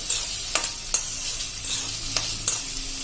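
Ginger chopped into fine pieces cooks lightly in a pan, giving a steady soft sizzle with occasional sharp stirring clicks from a spoon against the pan, close and alone without talk.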